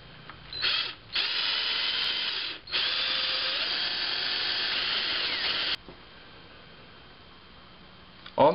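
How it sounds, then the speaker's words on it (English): A power drill bores into wood for a wooden camera tripod, whining loudly in two long bursts with a short pause between, then stops, leaving quiet room noise. "that's where I'll drill my hole."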